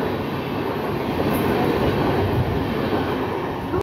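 A local train on the Howrah to Tarapith line pulls in with a steady, loud rumble of wheels and carriages that holds evenly throughout, with no voices.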